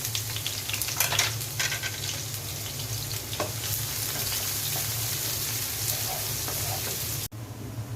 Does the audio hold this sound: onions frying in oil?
yes